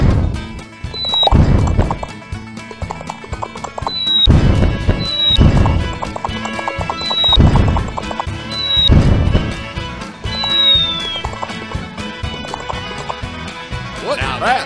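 Horse hooves clip-clop at a gallop for a pony express ride, with rhythmic thudding bursts repeating every couple of seconds, a whinny-like high tone above, and voices shouting over the loud ride.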